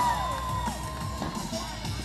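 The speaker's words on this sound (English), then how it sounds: "Crowd makes noise." A crowd at a BMX show at the Sydney Royal Easter Show cheers, shouts and whoops, with children's voices among them, a loud mass of noise that stays strong across the whole stretch.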